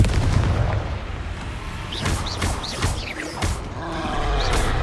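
Confringo fire-blast spells explode during Hogwarts Legacy gameplay on PS5, giving a loud string of sharp booming bursts and whooshes over a dense, continuous bed of combat noise.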